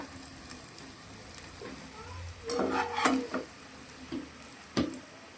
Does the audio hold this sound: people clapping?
no